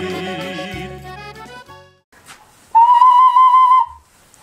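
A handmade fired and painted clay whistle from a pottery workshop gives one loud, steady, high tone lasting about a second, after a stretch of quieter music.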